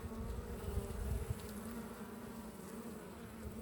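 Honeybees buzzing around the hive during a spring inspection, a close, steady droning hum with overlapping wingbeats that is slightly louder at first, then settles into a continuous buzz.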